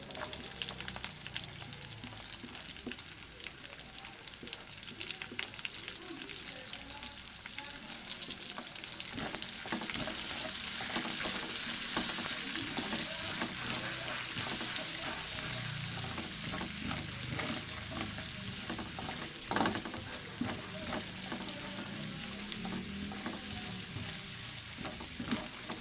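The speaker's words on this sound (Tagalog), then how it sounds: "Igisa na lang natin ng bawang sibuyas." Garlic and onion sautéing in plenty of oil for a spicy tomato chicken dish, a steady close sizzle with occasional stirring scrapes that grows denser after the first few seconds, with no talk.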